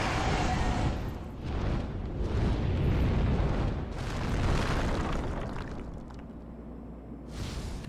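In Demon's Souls a dragon breathes fire in long, roaring whooshing blasts that swell and fade several times at moderate loudness, one after another.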